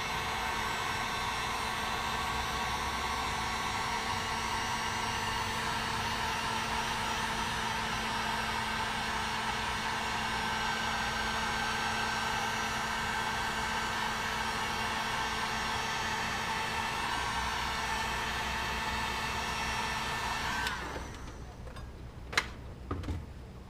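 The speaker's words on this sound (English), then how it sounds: "Make sure if you're using a heat gun, keep your heat source somewhere where it ain't going to catch fire" A heat gun blows a steady loud whooshing hiss while shrinking heat shrink tubing on a John Deere L130 battery wire, running continuously before cutting off near the end, followed by a few small clicks.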